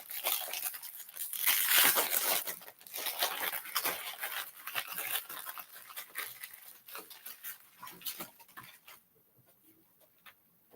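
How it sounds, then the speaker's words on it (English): Plastic packaging being unwrapped from an Insight Editions tarot deck, loud close crinkling and tearing that is strongest in the first seconds, then thins into softer crackles before falling quiet near the end. "let me just unwrap this"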